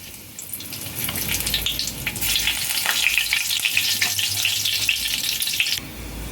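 Cardamom sizzling in hot ghee in a wok, a steady bright hiss of frying that holds close and loud for several seconds, then cuts off near the end, with no voices.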